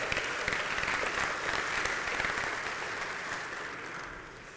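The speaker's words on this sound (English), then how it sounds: "Can we get a round of applause for Miss Maroon and White at court?" A college audience at a student government forum breaks into dense, steady applause that fills the hall and slowly fades toward the end, with no voices over it.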